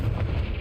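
A Confringo spell blast in Hogwarts Legacy lands as a short, heavy, booming explosion, loud and close.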